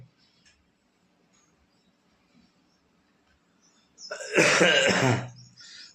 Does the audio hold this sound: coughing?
yes